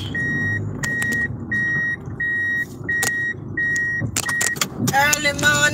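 Inside a car driving through Seaton Village, Antigua, the engine and road noise hum steadily under a repeated row of regular electronic beeps, ending with a burst of clattering and rattles.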